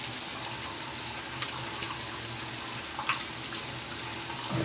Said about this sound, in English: All right, so let's get a little cool water here.